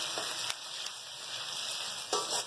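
Ginger, garlic, curry leaves and cumin frying in a karahi, a steady sizzle with a few sharp spatula knocks, close and moderately loud, no talking.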